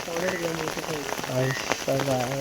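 Heavy night rain pours down steadily and close, a dense hiss under a voice talking through it.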